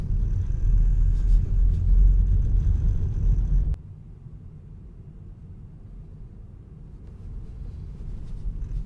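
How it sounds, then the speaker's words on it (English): A Tesla rolls over a cobblestone street at night in Manhattan, a steady low rumble of tires that drops abruptly to a quieter, rougher road noise partway through, then gradually rises again. "going to do some cobblestone here"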